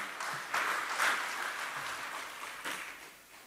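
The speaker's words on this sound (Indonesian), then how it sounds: "Tepuk tangan untuk beliau kembali." Applause for a speaker at an official Indonesian government ceremony, a soft, fairly distant patter of hall clapping that swells early and slowly tapers off.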